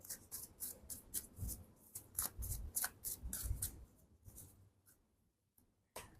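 Tarot cards being reshuffled by hand, a run of quick crisp riffling and slapping bursts that repeat steadily and close up, then thin out into near silence before one last sharp snap.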